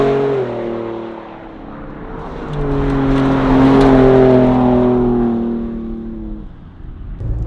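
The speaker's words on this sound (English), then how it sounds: "The exhaust note, it sounds really good." A Gen2 Ford Raptor with a Mountune power upgrade revving through its exhaust, a loud, close, deep engine drone that climbs in pitch, holds, then eases back down.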